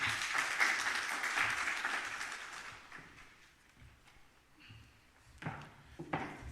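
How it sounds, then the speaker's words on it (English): Audience applause at a Kenyan standards event on fighting aflatoxins greets Dr. Murira Karau, Director of Quality Assurance and Inspection, as he comes on stage; a moderate round of clapping that thins out over several seconds, leaving a few scattered claps. "a round of applause for Dr. Murira Karau, the Director, Quality Assurance and Inspection"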